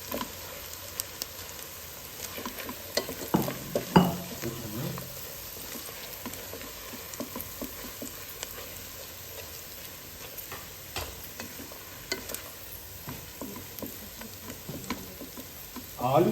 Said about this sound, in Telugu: ఆలుకి నెయ్యి అంతా పట్టేలా తిప్పుకోవాలి మొత్తం.